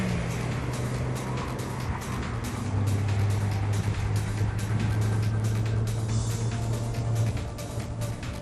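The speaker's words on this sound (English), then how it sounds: "Beautiful stainless exhaust" Engine and exhaust drone from a tuned Audi A4 Quattro with a stainless exhaust, a steady low hum that swells slightly partway through, heard alone with no talking.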